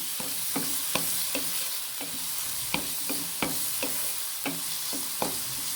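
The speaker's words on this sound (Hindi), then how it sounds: "अब मैं टमाटर डाल देती हूँ।" Tomatoes fry in a pan while stuffed okra is being made, with a soft sizzle under repeated sharp scrapes and taps of a spoon stirring against the pan at a fairly regular rhythm. No voices are heard.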